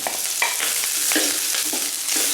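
Scallion, ginger, garlic and hotpot base stir-fry in a pot, with steady close sizzling and the scrape of a spatula stirring every so often.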